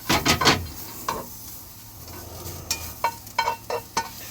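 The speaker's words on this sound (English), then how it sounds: "Put the garlic in there and then blend that all through and move it around" Garlic sizzles in a frying pan while being stirred around, with a soft background crackle broken by sharp scraping strokes of the utensil against the pan, several close together at the start and more near the end.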